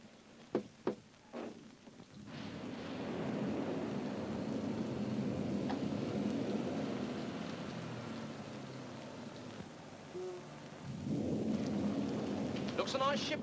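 A few sharp knocks, then a steady wash of rain swells and continues in a 1933 film soundtrack, with a rumbling undertone and faint sounds near the end.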